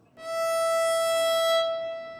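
A single sustained note rings steady and clear on an old violin from the 1800s, close and fairly loud, then it eases off near the end.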